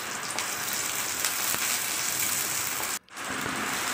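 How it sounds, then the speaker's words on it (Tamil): Mustard seeds popping and onion sautéing in hot oil for sambar, a steady close sizzle with scattered crackles and pops, cut by a brief drop in sound near the end. "கடுகு பொரிஞ்சோடனே வெங்காயத்தை போட்டு வதக்குங்க"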